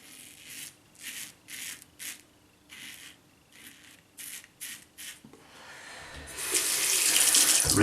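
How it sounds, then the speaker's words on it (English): A Gillette Slim Twist double-edge razor is rinsed under a running tap, with rhythmic scraping strokes first and then a loud steady gush of water filling the sink. "Rinse."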